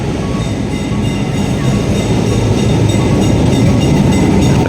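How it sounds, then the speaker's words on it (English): A 150-year-old tram rolls along a Kolkata street, its loud continuous rumble and rattle filling the air close by without a break, with no talking over it. "A tram goes by, 150 years old and still running."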